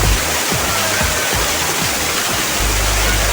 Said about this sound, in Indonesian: air terjun ini terbentuk akibat fenomena geologi dari letusan gunung